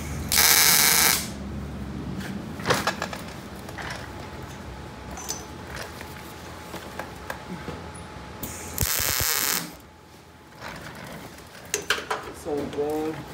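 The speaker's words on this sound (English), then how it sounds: "So we'll throw a tack weld on this side." Tack welds on a steel trail buggy frame, with short bursts of loud welding crackle and hiss, one near the start and another around nine seconds, separated by clinking metal handling and faint shop noise.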